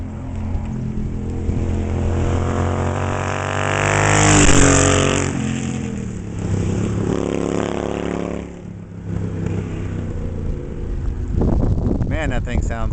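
A 1972 Yamaha XS2 resto-mod cafe racer motorcycle revs, its engine note swelling and falling as it passes nearby, with someone talking over part of it.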